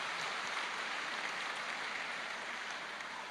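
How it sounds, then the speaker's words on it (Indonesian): A Catholic revival retreat audience applauds the attending husbands, a steady, dense wash of clapping that holds evenly throughout without talk. "Beri tepuk tangan suami Anda"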